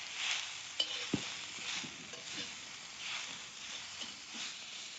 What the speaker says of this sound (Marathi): त्यातला निम्मा लसूण भाजायला टाकलाय माझा आणि थोडासा 2-4 पाकळ्या ठेवल्या त्या फोडणीला